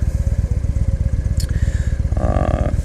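Victory Highball cruiser motorcycle's oil-cooled engine idling with a loud, close, rhythmic loping thump, steady throughout with a brief higher whine near the end.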